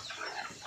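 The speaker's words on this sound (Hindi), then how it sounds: "मेरे पास देसी मुर्गी है, कड़कनाथ है, असील मुर्गा है" Desi Kadaknath chickens on a small poultry farm in Balod district, Chhattisgarh, give a brief burst of soft clucking, heard alone.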